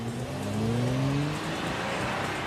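A Lamborghini Gallardo Spyder sports car with a 550-horsepower engine revs loudly and steadily, its pitch climbing through a gear before settling into a sustained drone, with no talk.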